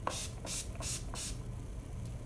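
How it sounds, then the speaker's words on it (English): Several quick hissing spritzes of a makeup setting spray bottle, about four bursts in a steady rhythm, close and fairly quiet over a low background hum. "you need to seal all of that together with our setting spray"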